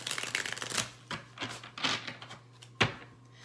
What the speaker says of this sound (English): these guys shuffle real easily